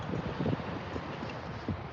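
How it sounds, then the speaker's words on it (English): Cold wind blows outdoors in San Francisco, a steady broadband rush buffeting the microphone with a few gusty bumps, loud and continuous with no talking. "Oh wow, it's really cold and windy."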